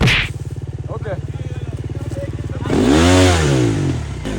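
Dirt bike on a first hill climb at Iron Mountain, its engine chugging at a steady idle pulse before revving up hard into a loud, rising whine, with people talking briefly nearby.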